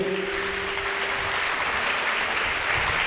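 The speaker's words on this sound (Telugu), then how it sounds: "గట్టిగా చప్పట్లు." Loud applause from a church congregation gathered for testimonies, steady dense clapping filling the space for the whole stretch without voices over it.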